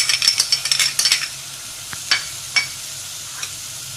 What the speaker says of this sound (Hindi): अब ये हम चॉप की हुई हम प्याज डाल रहे हैं।